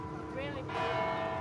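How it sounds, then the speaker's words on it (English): Church bells of a new Gothic-style Catholic church in Ho Chi Minh City ring for Sunday Mass, their tones heard faintly through steady crowd and street noise. "We got there just as the bells were ringing for 2 p.m."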